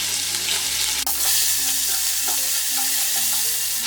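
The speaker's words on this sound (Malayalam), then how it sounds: "ഇനി ഇതിലേക്ക് ഈ എടുത്തു വെച്ചിരിക്കുന്ന ജിഞ്ചർ ഗാർലിക് പേസ്റ്റ് ഇട്ട് നല്ലതുപോലെ ഇതൊന്ന് ഇളക്കി കൊടുക്കാം" Ginger garlic paste fries with a loud, steady sizzle in a hot pan as a spoon stirs it, giving occasional scrapes and clicks against the metal over a close, constant hiss.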